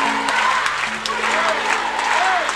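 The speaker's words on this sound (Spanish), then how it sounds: "¡Aplauso!" A theatre crowd at a farewell concert claps and cheers, a broad wash of applause under which a singer's or host's voice carries faintly.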